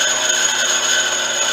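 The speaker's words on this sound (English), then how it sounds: "But I'm just facing off a 2-inch piece of brass, so I can watch it." Combination lathe facing a 2-inch piece of brass at very slow speed, a few hundred RPM, giving a steady, continuous scraping and grinding machine noise with a bright whine, close and even throughout.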